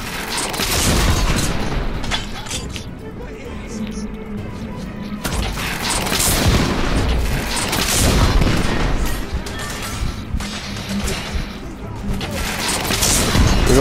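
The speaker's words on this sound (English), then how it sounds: "We are witnessing heavy artillery fire at the moment." Heavy artillery fire in The Order 1886 video game booms and crashes in dense, overlapping bursts over a constant chaotic din, with voices heard in the mix.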